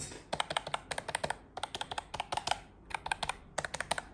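Rapid clicking keystrokes from a budget wireless keyboard sold in a bundle with a mouse, typed in quick bursts with short pauses, close and crisp with no voices.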